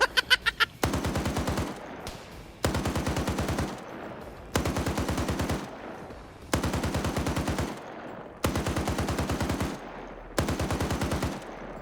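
.50 caliber machine guns fire in a military shooter video game: six long, loud bursts of rapid rhythmic shots, each a couple of seconds long and separated by short pauses.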